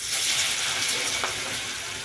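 Batter of gram flour and rice flour dropped into hot oil, a dense, even hiss of frying that stays steady and close for a couple of seconds, with no talking.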